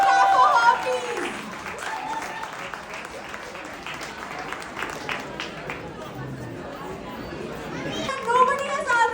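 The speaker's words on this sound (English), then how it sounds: "Can we have a loud clap for her, please?" An audience at a Diwali celebration in Berlin claps and cheers, a burst of applause mixed with crowd chatter and children's voices that fades and then swells again near the end.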